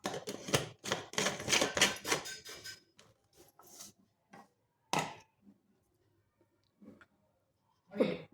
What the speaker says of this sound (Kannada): 2 ಏಲಕ್ಕಿ ಮೊದಲು ನುಣ್ಣಗೆ ಪುಡಿ ಮಾಡ್ಕೊಳ್ಳೋಣ.